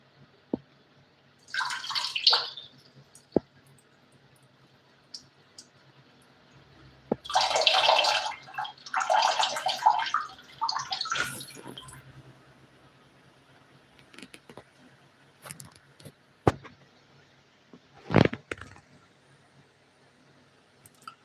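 Running water in a budget hotel bathroom in Lagos comes in short bursts of splashing and dripping, with quiet gaps and a few sharp knocks between, close by.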